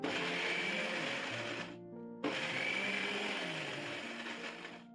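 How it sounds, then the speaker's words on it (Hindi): Mixer grinder jar grinding dried amla pieces in pulse mode: loud motor whir runs, cuts off briefly for about half a second, then restarts and runs on, no talking. "मिक्सी के जार को हम मिक्सी में लगाकर इसको पल्स मोड में हम इसको धीरे धीरे चालू बंद करते हुए ग्राइंड करेंगे"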